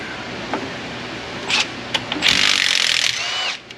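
Bolts on a truck's differential cover being loosened, heard as a few short mechanical whirring bursts followed by a longer grinding run of about a second, fairly close and with no talk.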